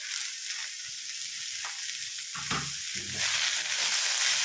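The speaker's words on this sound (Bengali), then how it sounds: "এটাকে ভালো করে এখন কষবো একটু, আমি আঁচ কমিয়ে দিয়ে কষবো" Beetroot and carrot curry sizzles steadily in a pan with turmeric and Kashmiri red chilli, a continuous close frying hiss with soft scrapes and stirring bumps, growing slightly louder toward the end.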